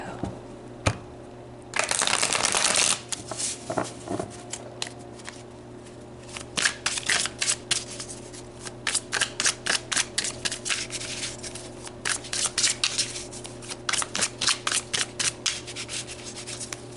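A deck of tarot oracle cards is shuffled by hand: a burst of riffling, then a long run of quick, rhythmic card slaps and flicks, close and crisp over a faint steady hum.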